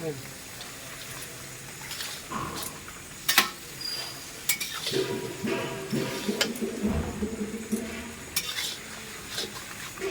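Young goat meat cooks in a pot over a clay stove outdoors, with a ladle scraping and stirring against the pot amid a steady sizzle, while people chat and laugh nearby.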